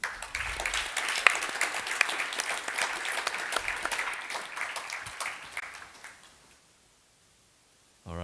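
Audience applause for a conference panel at the BLISS 2025 event, a dense steady wash of clapping from a full room that runs for about six seconds, then fades out and drops to near silence.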